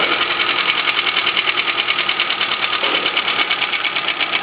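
A 1994 Suzuki Swift 1.3L engine idles with cylinder 2 disconnected, giving a steady close mechanical chatter with a fast even rhythmic pulse throughout.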